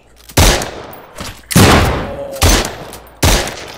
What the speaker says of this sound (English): Wow, awesome working shotgun.